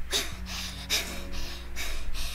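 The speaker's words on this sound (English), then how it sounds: "despite the cold she is panting and sweating" A woman character in a visual novel game panting heavily after hurrying in the cold, with sharp breaths coming in a regular rhythm about every half second over a low background tone.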